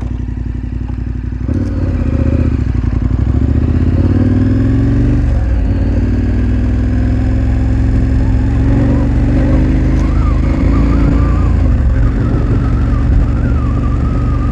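KTM 1290 Super Adventure R on Anarchy Adventure tires, ridden on a dirt road: a steady, loud engine drone with rising and falling throttle, gear changes and rattly clatter from bumpy off-road ground, close and continuous.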